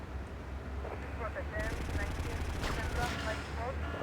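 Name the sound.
sniper rifle gunfire in video game GTA Vice City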